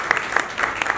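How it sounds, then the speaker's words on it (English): Audience applause at a sustainability conference: a short, dense burst of many hands clapping together, steady and fairly close, with no talk over it. "So a round of applause for yourselves"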